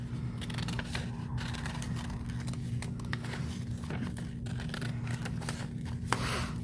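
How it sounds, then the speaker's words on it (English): Scissors snip through folded paper in quick, irregular crisp cuts, close and fairly faint against a steady low background hum. "as I'm cutting, I'm holding the paper still folded because we're making symmetrical"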